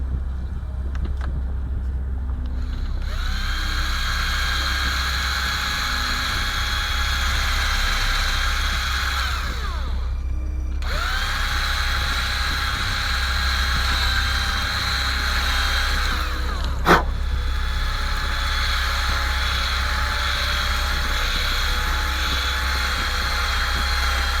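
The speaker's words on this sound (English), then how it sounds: "So now what we need to do is we need to drill this." A small power drill bores into a part of an OCCRE lighting kit for a 1/50 Flying Dutchman model ship, whining steadily at close range in two long runs with a brief pause between, over a low constant hum.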